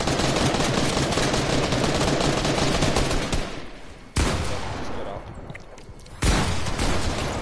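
Dense, continuous automatic gunfire in a shooter video game, loud and close, breaking off briefly twice before sharp new volleys resume, with a voice faintly beneath the shooting.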